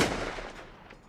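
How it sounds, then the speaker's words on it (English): A single gunshot effect in a dramatic audio story, one loud sharp crack at the start that trails off into a long rumbling echo like a shot ringing off cliffs. "the shattering sound of a gunshot rings off the cliffs and soaks into the trees above, rattling my eardrums"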